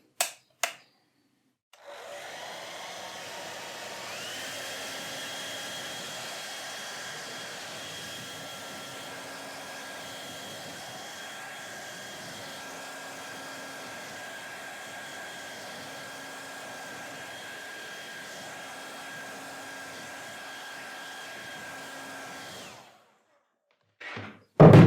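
A hair dryer drying a watercolour painting: it switches on after a couple of clicks, blows with a steady, even whir for about twenty seconds, then stops, with a few knocks at the start and end.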